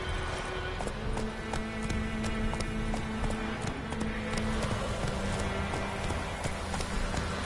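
A horse gallops in The Witcher 3 video game. Steady, rhythmic hoofbeats clip-clop closely and evenly throughout, with a faint ambient wash behind them and no talking.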